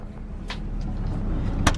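A 1986 car with only 8,000 miles idles on its four-cylinder engine, a low steady rumble that swells slightly in a brief idle surge, with a couple of faint clunks.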